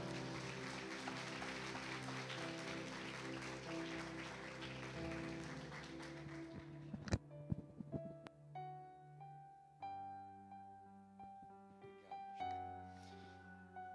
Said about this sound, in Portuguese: quem crê aplauda o Senhor Jesus